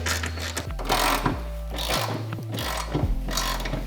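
A ratchet wrench loosens the subframe mounting bolts on a car during a suspension overhaul, clicking in quick, uneven bursts of close mechanical ratcheting with no voices.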